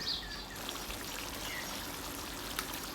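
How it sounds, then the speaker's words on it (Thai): A little water is poured into a pork rib stir-fry with southern curry paste and shrimp paste, giving a soft, continuous trickle and splash over a faint background hiss, close and brief. "เติมน้ำลงไป เล็กน้อย"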